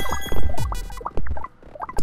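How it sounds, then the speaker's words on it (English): A robot bot fertilizing soil in the Autonauts video game makes a rapid run of small clicking, clinking and pattering game effects, dense and fairly loud, with brief pauses between bursts. "that's the sound of him fertilizing the soil."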